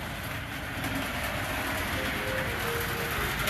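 Steady rumble and rolling clatter of a small HO scale model train running on track, continuous with faint higher squeaks, no voices.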